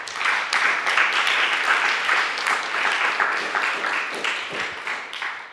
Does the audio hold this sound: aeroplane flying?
no